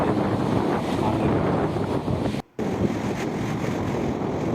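Strong wind buffets the microphone at sea beside a fishing boat, with big waves rolling in a constant, loud roar. The rush drops out briefly, and no rain falls.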